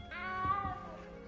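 A small cat meows in Hogwarts Legacy, a single drawn-out meow close up, alone over a faint game ambience.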